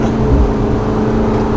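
The engine of a 2015 McLaren 650S Spider, driven with the top down, gives a steady loud drone as the revs climb a little, blended with wind rush.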